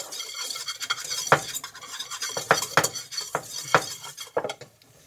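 Whisk or spoon stirring a light roux in a metal pan for macaroni and cheese, a run of clear scraping, tapping strokes against the pan with irregular rhythm, close and fairly loud, no talking.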